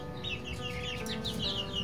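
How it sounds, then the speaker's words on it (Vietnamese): Two-month-old bantam chicks cluck and peep softly in a busy chorus, continuous chirps over a low steady hum. "Này là gà con, này hơn 2 tháng tuổi"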